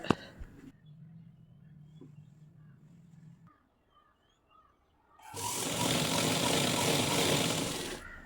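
A sewing machine stitches lining pants, running in a loud, steady whirring burst for about three seconds after a quiet stretch of faint low hum.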